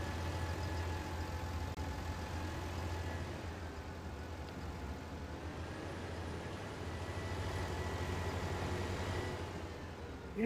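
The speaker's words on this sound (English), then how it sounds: "The engine sounds aren't too bad either on that." Tractor engine idling in Farming Simulator 19, a steady low drone that holds evenly throughout with no speech over it.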